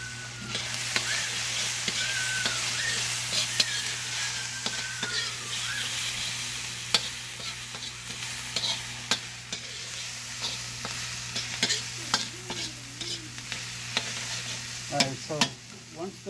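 Vegetables for a seafood stew sauté in a pot, giving a steady close sizzle with scattered crackles and stirring scrapes, while faint voices murmur in the background.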